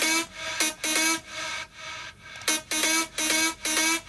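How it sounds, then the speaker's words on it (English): A bright, buzzy synth lead plays short repeated phrases, each note trailing into a reverberant wash that lingers between the bursts. "And then the reverb, which makes it sound like this."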